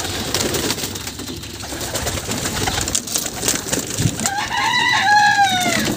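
Young pigeon squabs kept in a tin, giving soft cooing and squeaky calls near the end over a steady rustling, outdoor background hiss, fairly close with no talk.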